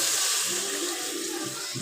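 Strained water saved from boiling is poured steadily into a cooking pan, a continuous watery hiss with a slight gurgle near the end.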